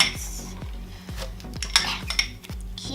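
Wet slime being mixed with activator in a bowl, giving repeated rhythmic scraping and clacking strokes of a utensil against the container, close and fairly loud, with squelchy smacks in between and no talking.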